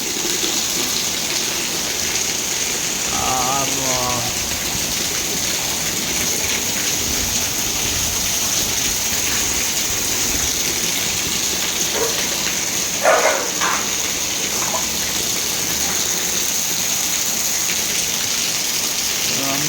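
Heavy rain pours steadily in Hyderabad, a dense continuous hiss of drops on surfaces, with people talking briefly and a short clatter partway through.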